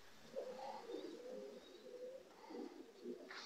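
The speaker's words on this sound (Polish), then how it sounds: "Piękny gołąb." Soft, low pigeon cooing repeats in gentle rolling phrases, faint and close, with quiet bird chirps and room noise around it.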